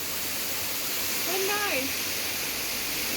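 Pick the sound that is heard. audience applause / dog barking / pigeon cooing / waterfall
waterfall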